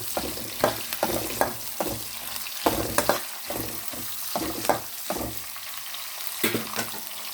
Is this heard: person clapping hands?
no